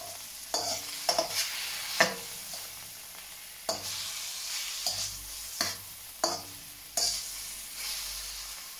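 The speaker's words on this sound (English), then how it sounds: "Just want to brown off that beef." Beef browns in a hot stir-fry pan, a steady sizzle and frying hiss running throughout, broken by repeated sharp scrapes and stirs of a utensil at irregular intervals, close and alone without talk.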